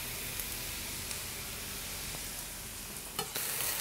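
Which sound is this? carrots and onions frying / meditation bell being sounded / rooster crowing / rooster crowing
carrots and onions frying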